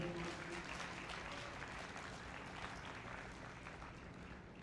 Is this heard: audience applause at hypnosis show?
yes